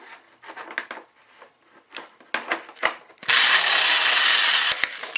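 A Mastercraft corded impact driver with a faulty cord runs in short bursts with clicks and scrapes, then kicks into a loud, steady whirring run near the end.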